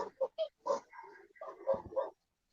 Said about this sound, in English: The actual dog barking